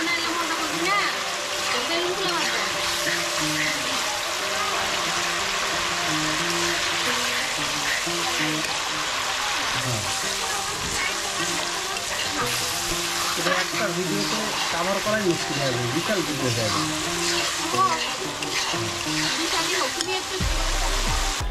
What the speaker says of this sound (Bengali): রোস্টের জন্য মশলাগুলো কষিয়ে নেওয়া হচ্ছে।